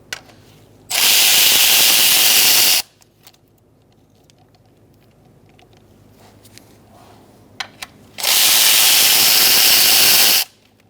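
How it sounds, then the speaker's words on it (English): Power ratchet or drill with a 10mm socket working bolts on the engine of a 2002-2006 Toyota Camry, two loud, close bursts of whirring a few seconds each, separated by quiet clinks of handling. "Using a 10mm socket, we're going to take out this bolt and this bolt first"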